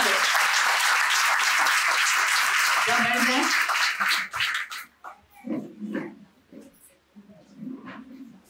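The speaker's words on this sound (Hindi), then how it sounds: "यीशु के नाम में जोरदार ताली परमेश्वर को महिमा दे" Loud, sustained applause from a congregation during a Sunday church service, a dense burst of clapping that fades out after about four seconds, followed by a voice speaking.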